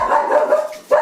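A dog gives a brief loud bark or yelp indoors, one short close burst with a second sharp onset at the end.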